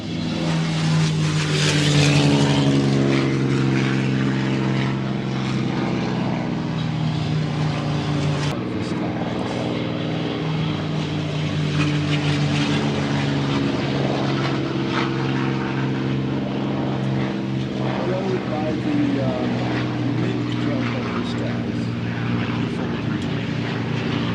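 A vintage propeller aircraft passes at the Flying Legends airshow at Duxford, its steady droning engine hum holding throughout at moderate distance, while a commentator talks over it.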